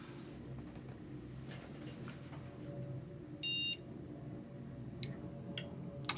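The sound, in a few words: PC motherboard beeping as a failed boot shuts down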